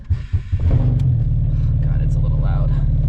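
A Volkswagen GTI with a 1.8T engine idles loudly inside a garage, a deep steady rumble that settles in after a few bumps and knocks at the start.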